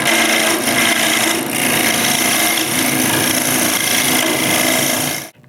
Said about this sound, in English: So after turning a cylinder almost all the way, I turn it around and finish it.